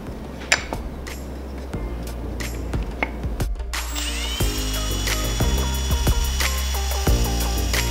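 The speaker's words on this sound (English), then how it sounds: "then we'll drill the holes" A power drill whines loudly and steadily while drilling bracket holes in a wooden floating canvas frame, preceded by a few sharp knocks and clatters, then runs in a sustained high-pitched drone.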